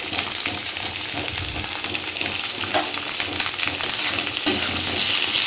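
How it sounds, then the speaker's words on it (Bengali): Chopped onion sizzling in a hot pan while matar ghugni is being cooked, giving a steady bright frying hiss with a few small clinks and stirring sounds. "পেঁয়াজটা একটু ভাজা ভাজা হয়ে এসেছে"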